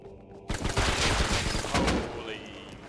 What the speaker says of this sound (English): Holy fuck. Incendiary rounds.